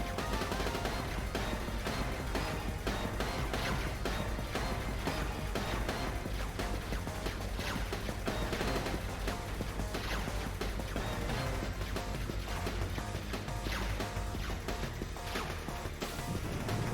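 Cannon blasts in the Sega CD shooter game Silpheed, heard as a dense, relentless barrage of loud explosive booms and crashes layered over constant game music.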